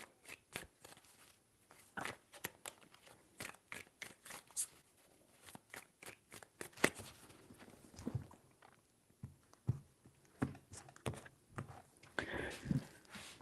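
Tarot cards are shuffled close by in quick papery riffles and soft taps, a series of irregular bursts that are fairly quiet, with faint handling noises between them.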